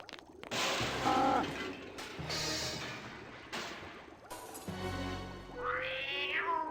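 A cat in Discworld II meows and caterwauls repeatedly, with several loud, drawn-out yowls separated by short pauses, close and prominent over game sound effects, and no talk.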